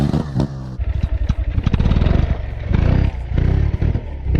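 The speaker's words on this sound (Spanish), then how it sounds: "se puede probar de hacer un golpe de gas para solventar el escalón que tenemos justo delante de la rueda" A motorcycle engine pops and idles, then blips its throttle into a loud, close, chattering rev to climb a step, easing and rising again in rough pulses.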